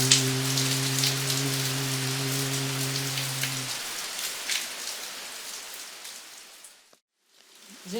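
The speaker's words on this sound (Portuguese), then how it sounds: "hoje numa noite de chuva" Steady rain falling at night in Massarandupió, a dense continuous patter on surfaces with a low hum fading out early, the rain dropping away briefly near the end before returning.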